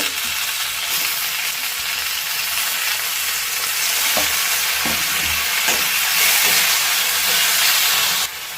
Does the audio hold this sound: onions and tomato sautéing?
yes